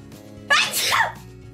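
A single sharp, close sneeze bursts out suddenly, then trails off, over a faint background hum.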